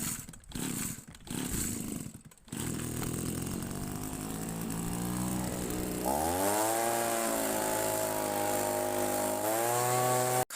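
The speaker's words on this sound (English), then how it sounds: "let's get this blower fired up and let's get the final blow done" A garden leaf blower runs with a loud, close buzzing drone. A few choppy bursts come first, then the engine revs up and holds a steady high whine.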